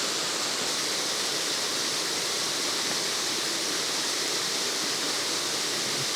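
Waterfall at Blackwater Falls in a West Virginia state park in autumn, a steady, dense broadband roar of falling water that holds constant throughout, loud and continuous with no voices.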